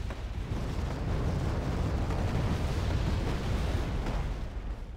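Artillery shells exploding in the war game Wargame: AirLand Battle, a heavy continuous low rumble of blasts merging into a steady roar that swells and then eases slightly at the end.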